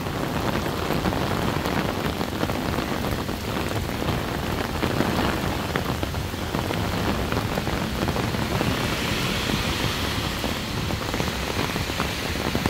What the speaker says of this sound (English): the rain is really hard. It's coming down hard.